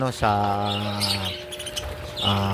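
Parakeets chirp in bright, tonal calls, a few near squawky notes with a short gap between bursts, heard alone without talk.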